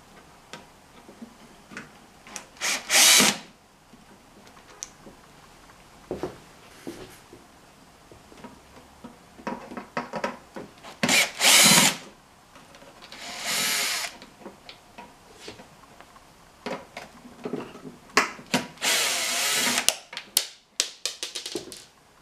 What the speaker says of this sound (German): Als nächstes schraube ich hier seitlich das Rohr ab.